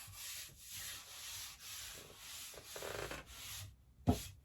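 Fine abrasive rubbed lightly with the grain over a tung-oil finish on a wooden storage chest, knocking down high spots; soft, close, repeated back-and-forth scuffing strokes, fairly quiet, ending with a sharp knock.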